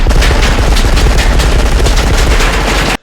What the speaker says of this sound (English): When they introduce Carl's machine gun, it's loud as hell.